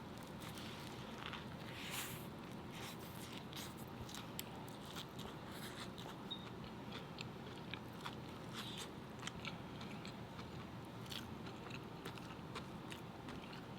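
A crunchy, scratch-made Nashville hot chicken sandwich is bitten and chewed up close, with crisp crackling crunches repeating through the chewing and no talk over it.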